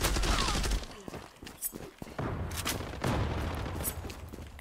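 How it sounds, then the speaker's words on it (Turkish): A flashbang bursts amid rapid gunfire in a World War II shooter game featuring the M1 Garand, a loud blast followed by scattered shots, booms and ringing debris. "Ah, flaş atıldı lan."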